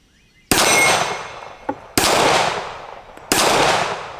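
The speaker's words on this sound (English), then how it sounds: "So let's do a little bit of shooting here." Three loud, sharp shots from a Colt MK IV Series 80 1911 pistol, about a second and a half apart, each with a long ringing outdoor echo.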